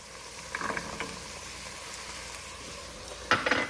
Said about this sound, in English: So now I'm going to go ahead and add the carrots.